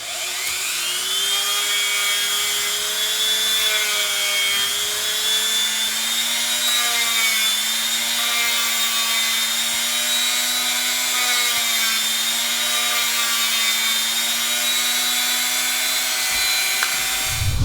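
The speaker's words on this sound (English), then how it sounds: "here's the sanding bit that we're using" A sanding bit on a rotary tool whines steadily while shaping small wooden board game pieces, a continuous loud high-pitched drone with slowly shifting pitch and no pauses.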